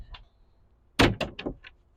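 A small trash compartment door on a 2023 Boston Whaler 24 Vantage boat is opened, giving a close, sharp latch clack and then a few quick, lighter knocks and rattles as it swings, with no talk.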